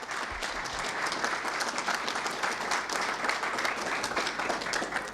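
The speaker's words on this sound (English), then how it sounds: "So guys, give them some love, some applause." Audience applause fills a convention hall at Dash Convention Europe 2019, a dense, steady wash of clapping that holds at an even level without a break.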